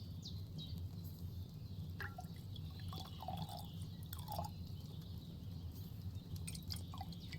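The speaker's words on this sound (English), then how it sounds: "Pour it all into a vial." Liquid pours and drips into a small vial during potion brewing in Kingdom Come Deliverance II, faint trickles and soft droplets over a low background hum, with occasional light clinks.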